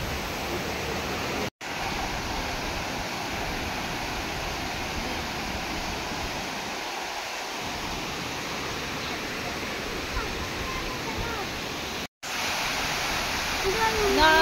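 Water rushing and spilling through a closed gate at a temple, a steady broadband roar that holds continuously, close and fairly loud, with two brief dropouts.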